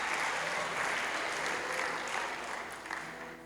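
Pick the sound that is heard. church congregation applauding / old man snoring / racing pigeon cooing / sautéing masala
church congregation applauding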